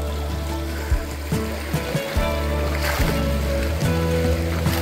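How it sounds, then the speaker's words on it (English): A pretty creek along the South Dakota Centennial Trail flows steadily nearby, a broad, continuous wash of running water with a few soft knocks and splashes over a low rumble. "It's a very pretty creek."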